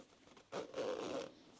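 A zipper being sewn into fabric is unzipped during sewing: one close, rasping pull lasting under a second after a quiet start.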